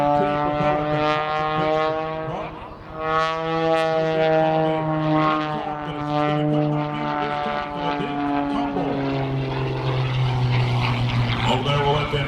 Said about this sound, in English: she's got a 540 cubic inch engine turning an MT propeller